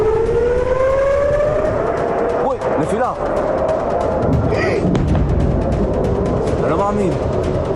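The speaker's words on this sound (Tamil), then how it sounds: "இதனால் அங்கு சைரன் ஒலித்த வண்ணம் இருந்தது." Air raid sirens in Israel wail during an Iranian missile attack. Several long rising and falling tones overlap over loud, constant street noise, and the sound is sustained throughout.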